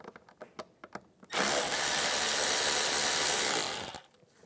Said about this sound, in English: We're going to loosen up the worm clamps.